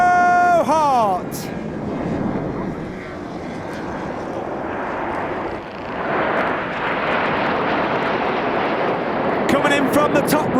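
Red Arrows display jets trailing smoke for the Synchro Heart at the Festival of Speed, a loud sustained roar of jet engines sweeping past, with a commentator's voice and crowd noise underneath.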